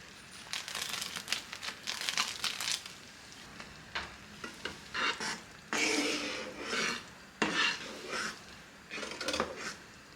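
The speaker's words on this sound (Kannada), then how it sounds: "ಡ್ರೈ ಫ್ರೂಟ್ಸ್ ಹಾಕೋತಾ ಇದ್ದೀನಿ." Dry fruits tipped into a pot of sabudana payasa, a run of close, bright rattling and scraping bursts of pieces and spoon against metal, stopping and starting in uneven clusters with no talk.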